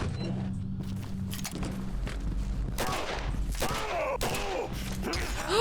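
Several gunshots crack out in the game Condemned: Criminal Origins, sharp loud bursts in quick succession over a low droning background, with a man reacting loudly between them.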